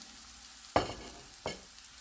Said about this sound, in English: So this has to be sauteed finely